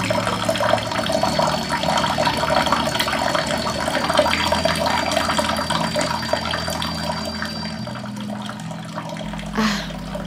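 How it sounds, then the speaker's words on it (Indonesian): Water runs steadily from an open tap in a bathroom, a continuous splashing trickle over low background hum lasting about ten seconds, with a brief louder gush near the end. "aku yang masih bermalas-malasan di kamar mendengar suara gemericik air dari keran yang"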